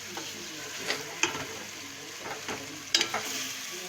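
Masala sizzles in a pan for chicken korma while a spatula stirs and scrapes it, a continuous frying hiss broken by intermittent clinks and scraping strokes.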